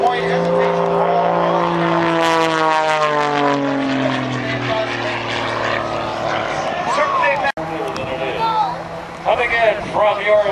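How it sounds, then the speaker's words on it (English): An MX2 aerobatic propeller airplane performs at the Abbotsford airshow: a loud, close engine drone whose pitch sweeps down steadily as it passes, then a rougher, rising snarl as it manoeuvres. "Coming in from your left, ladies and gentlemen, Mr. Rob Holland in the MX2"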